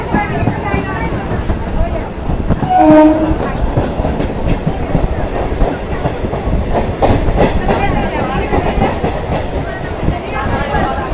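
A crowded rush-hour local train runs between Shantipur and Ranaghat, its steady rumble and clattering wheels loud and continuous from start to finish, with a brief horn-like tone near the start and a background of passenger voices.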